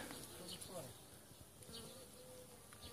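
A swarm of honey bees buzzing in the open air around hives, a faint continuous drone with occasional nearer passes, distant and quiet throughout.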